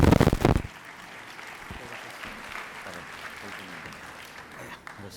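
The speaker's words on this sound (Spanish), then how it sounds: "Lo recibimos con un fuerte aplauso" Applause from an audience at a science communication event in Peru opens with a short loud burst of clapping, then settles into a steadier, softer patter that continues to the end.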